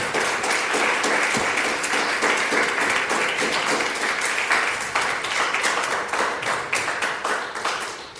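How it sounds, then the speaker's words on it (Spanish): A church congregation claps for Jesus Christ during a Spanish-language general service, a loud, dense wave of many hands with sharp individual claps cutting through, holding strong before tapering slightly toward the end. "Dale un aplauso al Señor Jesucristo."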